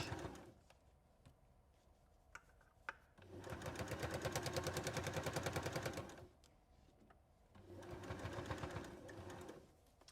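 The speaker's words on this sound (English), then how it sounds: "just run a line of top stitch around the edge" A sewing machine stitches a straight line of topstitching around the edge of a fabric bowl, running in two steady rapid bursts with a short pause between, close and clear.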